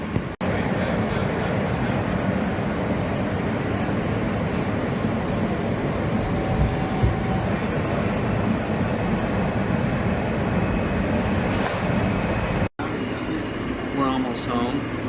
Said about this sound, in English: This is a Wilsontown J local train.